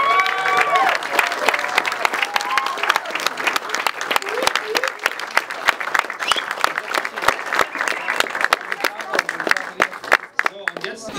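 Enthusiastic crowd applause at a film premiere party, dense continuous clapping with some cheering and voices mixed in, loud and sustained before thinning slightly at the end.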